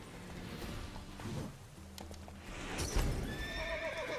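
A horse in the video game The Witcher 3 neighs and its hooves clop, a shrill whinny rising over steady hoofbeats and a low ambient game background, fairly faint overall.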